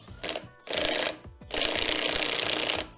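Ratchet wrench tightening the bolt on a Kohler Courage 20 mower ignition coil: two bursts of rapid clicking ratchet strokes, close and fairly loud, with a short pause between them and no talking.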